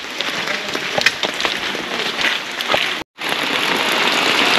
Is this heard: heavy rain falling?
yes